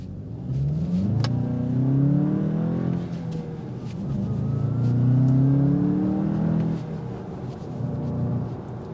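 A 2025 Volkswagen Jetta GLI accelerating under throttle: the engine climbs through rising revs in repeated surges with gear changes between them, loud and steady from inside the car.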